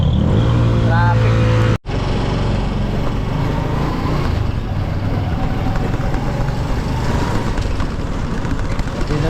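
Road traffic of cars and motorcycles hums along continuously, engines idling and passing close by in a dense, steady rumble, with a brief sharp cut in the sound near the start.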